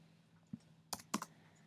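A few separate keystrokes on a computer keyboard, clustered in two quick bursts after a single light tap, close and quiet against a faint steady hum.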